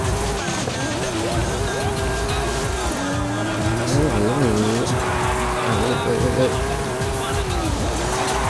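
A Forza Horizon 5 race car engine whines and revs up and down through gear changes, with tires squealing, while someone talks over it.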